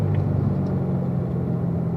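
A car engine drones steadily in third gear on a race track, a continuous low rumble that holds an even level throughout with no talk.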